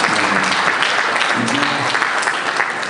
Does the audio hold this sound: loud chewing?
no